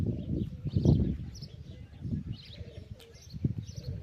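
Pigeons coo in low, throaty, rolling calls, several overlapping phrases close to the microphone, with a few faint chirps in the background and no talk.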